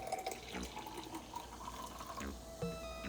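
Celsius energy drink poured from a can, a continuous liquid splash and gurgle lasting a few seconds, close and steady with small bubbly fluctuations.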